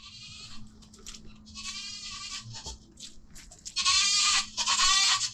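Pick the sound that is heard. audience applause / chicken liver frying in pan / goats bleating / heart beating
goats bleating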